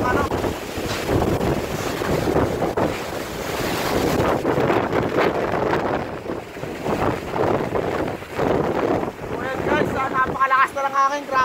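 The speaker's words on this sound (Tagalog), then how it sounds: "sobrang lakas na lang hangin dito, grabe" Strong typhoon wind during Super Typhoon Rolly (Goni) in Quezon Province, roaring and buffeting the microphone in loud sustained gusts, with a voice speaking briefly near the end.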